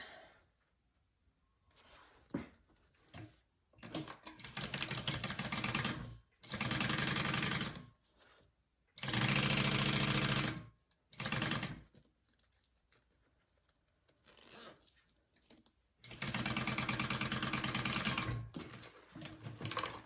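A sewing machine bastes fabric pieces for a bucket bag in several separate bursts of loud, close stitching, broken by pauses with small clicks and handling noises between runs.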